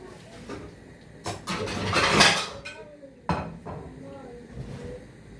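Dishes, cups and a frying pan clatter and clink while being washed by hand, in quiet scattered bursts with one busier stretch of rattling crockery and metal.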